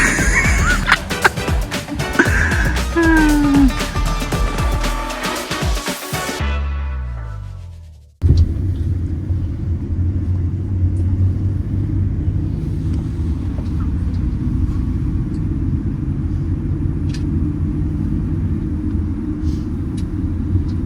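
Engine rumble and road noise come from a bus leaving Flåm, Norway, heard first among busy outside sounds, then after a short sharp cutoff as a steady low drone from inside the moving bus.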